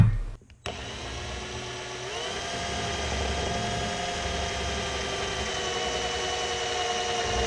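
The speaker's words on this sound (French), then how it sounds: "percer les trous" A power drill bores holes in a metal guitar delay pedal enclosure. It runs as a steady, loud whine close by after a brief start, holding a constant tone with no voices.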